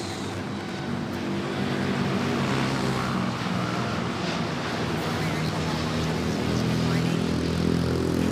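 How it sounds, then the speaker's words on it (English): A Japan Airlines Dreamliner lined up on runway 06 at Manila airport howls with a steady, broad engine roar heard from a distance, unbroken and constant for the whole stretch, with no talk over it. "the howling of the engines of Japan Airlines."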